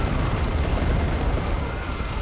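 An assault cannon in the video game Dawn of War II fires in a dense, unbroken roar of rapid blasts, loud and close, with a rumbling low end that never pauses.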